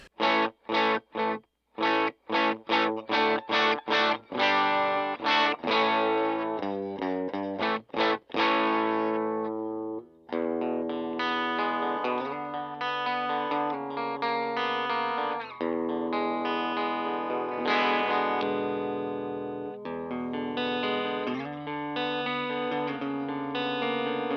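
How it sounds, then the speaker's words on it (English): Clean electric guitar played through the bridge pickup: a run of short plucked notes and stabs gives way to sustained ringing chords and melodic lines, bright and steady, with no voices. "This is the clean sound with the bridge pickup"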